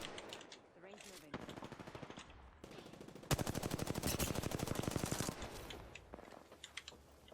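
R-301 rifle fire in the battle royale game Apex Legends, rapid automatic bursts with the longest sustained volley in the middle, set against quieter in-game sounds.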